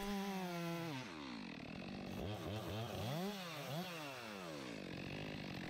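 A chainsaw with a 25-inch bar plunge cuts into a storm-felled log. It idles, then revs hard and labors with rising and falling engine pitch as the bar bites into the wood, loud and close throughout.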